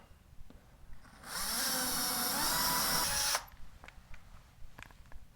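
Power drill with a 1/8 inch bit drilling a hole in a hollow wall, one loud high whir lasting about two seconds between quiet stretches with faint clicks and handling noise, no talking.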